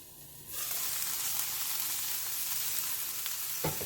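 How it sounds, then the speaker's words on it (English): Ingredients for red salsa sautéing in a pan, a steady hiss of frying that swells up suddenly and then holds loud and even, with a faint clink near the end. "I'm just going to saute these for somewhere between 3 to 5 minutes"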